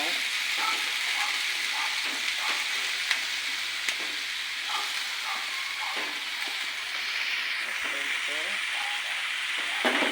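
Vegetables simmer in coconut milk in a pot, giving a continuous soft bubbling hiss with occasional faint clicks, steady and fairly close.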